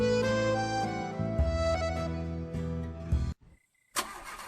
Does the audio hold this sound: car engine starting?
yes